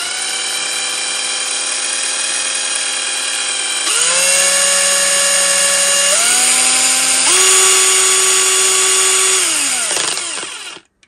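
A Hychika 18V cordless drill spins its chuck with a small bit fitted, giving a loud, close, steady whine. The motor steps up through several speeds, then winds down to a stop, with no talk.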